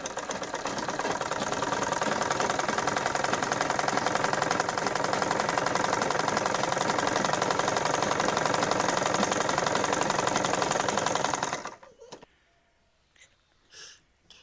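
A sewing machine topstitching a pyjama waistband runs steadily and close for about twelve seconds with a fast, even mechanical chatter, then stops, leaving near silence and a few faint handling clicks.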